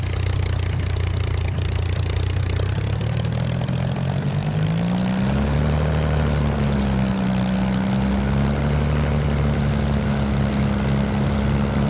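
Propeller aircraft taxiing along a highway in Flight Simulator, a loud steady engine drone that rises in pitch partway through and then holds a smooth hum, with no voices.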